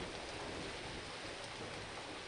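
Rain falls in the platform game Battle Block Theater as a constant, even hiss of downpour, moderately loud and unbroken, with no voices.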